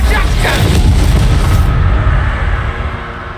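Explosive spells blast in Hogwarts Legacy, a deep, booming detonation followed by a rumbling decay that fades over a few seconds.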